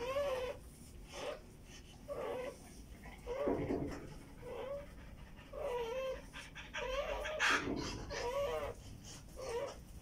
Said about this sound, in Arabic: شايفين بتنهج ازاي؟